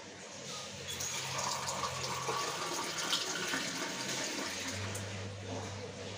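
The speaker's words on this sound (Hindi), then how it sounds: "ये हो गया उनकी ग्लास में पानी।" Water is poured into a glass as part of a devotional food offering set out on a table, a steady, continuous splashing pour that lasts several seconds with no talking.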